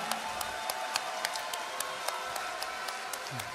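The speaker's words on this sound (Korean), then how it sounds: "큰 박수 부탁드립니다" Scattered, thin applause from an audience at a Democratic Party event, a few sharp claps standing out over a steady crowd murmur.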